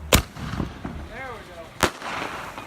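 New Year's fireworks burst outdoors with two sharp, loud bangs about a second and a half apart, and a faint rising and falling whistle-like tone between them over low background noise.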